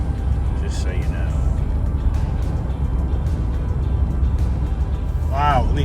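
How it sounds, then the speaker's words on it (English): A supercharged sport truck drives along back roads, its engine a steady low drone with a whistling whine rising near the end, heard from inside the cab while people talk over it. "You really hear this supercharger under this truck."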